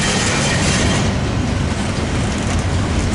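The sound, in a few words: Metrolink 622 commuter train passing southbound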